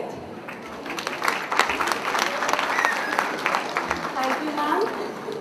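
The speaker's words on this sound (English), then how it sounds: "So I really request you to applaud our students open-heartedly." An audience applauds student performers at a school event, with steady clapping filling the room at moderate loudness and some voices mixed in.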